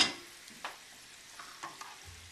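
About a tablespoon of butter swirled in a pan gives a faint, soft sizzle, broken by a few light scraping swishes, quiet and close with no talking.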